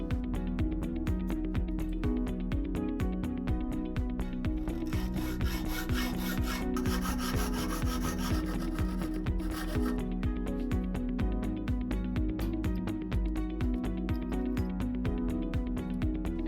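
A brass rod being cut to length in a metal workshop, with a steady, fast rasping stroke repeating throughout, close and continuous over a constant low machine hum.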